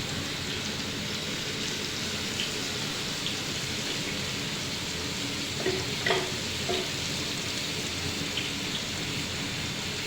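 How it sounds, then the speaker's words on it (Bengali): Ridge gourd and potatoes fry in a pan, a dense continuous hiss like steady rain with a few brief utensil knocks partway through. "ঝিঙ্গে আর আলুগুলো দিয়ে দিলাম তারপরে একটু ফ্রাই করে নেব"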